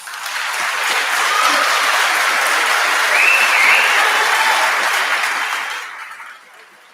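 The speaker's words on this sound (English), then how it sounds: "If we have one more big round of applause for our senior chorus." A large audience at a high school graduation applauds a senior chorus steadily for several seconds, a dense sustained wash of clapping that fades out near the end.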